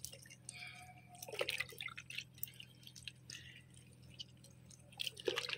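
Kitchen vegetable scraps soak in water as compost for an allamanda vine and get stirred by hand, with close wet sloshing, drips and squishy churning over a low steady hum.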